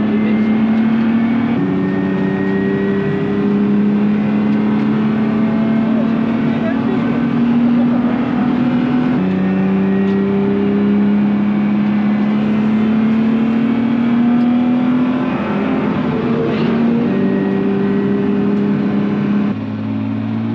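A car lapping the Nogaro race circuit during a driving-coaching session gives off a loud, steady engine drone that climbs in pitch, then drops at several gear changes, with voices talking over it.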